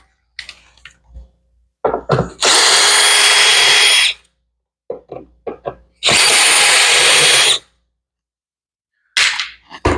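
Cordless power drill backing screws out of the trim panel on a GE dishwasher, two sustained loud whirring bursts of about two seconds each, close up, separated by clicks, handling knocks and short trigger blips.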